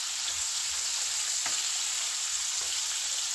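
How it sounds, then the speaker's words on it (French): Peppers fry in a pan with a steady, close sizzle that runs unbroken throughout, a few faint clicks of a utensil showing through, with no voices. "je fais cuire d'abord les poivrons, comme ça va bien sortir ses saveurs"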